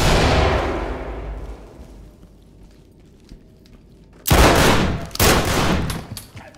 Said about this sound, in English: Shotgun fire.